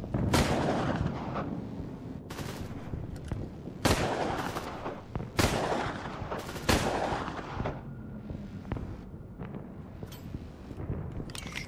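Pistol shots ring out in the first-person shooter Quantum Error, a series of loud, sharp bangs at irregular intervals with booming echoing tails over a rumbling game soundscape.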